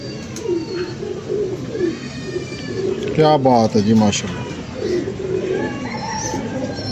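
Pigeons in a loft coo repeatedly with low, throaty rolling calls, close by, while someone speaks briefly over them.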